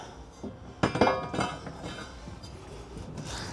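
Metal propeller of a wake boat being slid onto its shaft, a few close metallic clinks and taps with one sharper knock and scraping, brief and irregular under a faint background wash, no talking.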